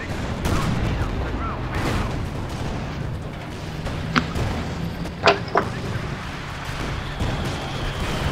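Artillery fire in Company of Heroes 2 during a 4v4 multiplayer battle: a few distant thuds and crackling blasts, two of them close together, rising faintly above a steady wash of battlefield noise, with a voice talking in the background.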